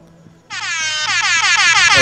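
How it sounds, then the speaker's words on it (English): A loud, sustained air horn blast in the video game Sonic Shuffle starts abruptly after a short pause and blares steadily with slight pulsing to the end, with faint voices underneath. "Are we having an air horn fight?"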